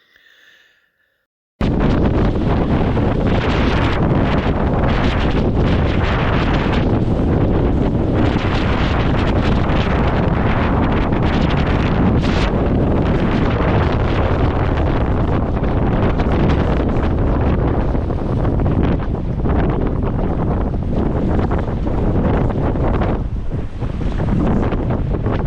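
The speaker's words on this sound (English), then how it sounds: "It took all of our strength to paddle against the wind" Strong, continuous wind roars against the microphone while paddling a boat on open water, a steady heavy buffeting that fills the whole stretch after a brief quiet start.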